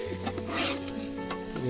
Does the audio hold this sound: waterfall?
no